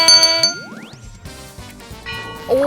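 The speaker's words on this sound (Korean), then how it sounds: "시작부터 골든벨이 울렸습니다." A bright, bell-like chime rings out with a rising sweep and sparkling tinkles, a short cheerful jingle ending on a bending tone.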